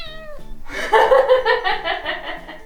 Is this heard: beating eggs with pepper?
no